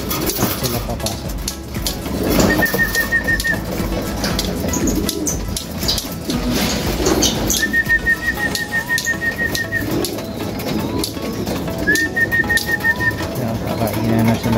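Racing pigeons cooing at the loft on basketing day, soft repeated coos and bird calls scattered through a busy background with occasional whistle-like tones, a voice talking faintly underneath.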